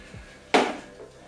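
A flower pot is set down or handled once during repotting of a money tree plant, giving a single short, close knock with a brief scrape, alone in a quiet room.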